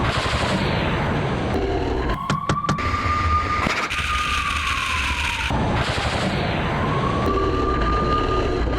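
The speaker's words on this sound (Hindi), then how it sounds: "मैं चाहूंगा सायरन ऑन रखें प्लीज इसमें।" A wailing air-raid siren during the war in Ukraine rises and falls repeatedly over a dense rumble of gunfire and blasts, with a sharp cluster of cracks and a brief lull in the middle.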